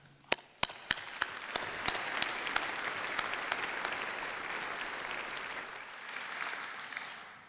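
An audience at a university graduation ceremony breaks into applause, a few sharp early claps swelling into sustained, even clapping from a large crowd in a hall, tapering slightly toward the end.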